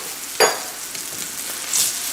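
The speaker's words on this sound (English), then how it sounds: "Gonna stir that in." Flour being stirred into butter-softened mushrooms in a pan gives a steady moderate sizzle, with a brief scraping burst early on and a hissier swell toward the end.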